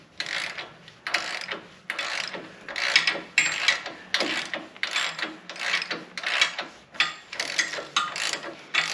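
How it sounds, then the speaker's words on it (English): A ratchet with a 21mm socket loosening the front track bar bolts on a Jeep Wrangler JLU, clicking in repeated rapid bursts roughly every second, close and loud with no talking. "I'm going to take this 21mm socket and I'm going to start loosening the front track bar bolts"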